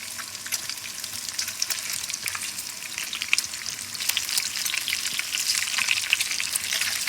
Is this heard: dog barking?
no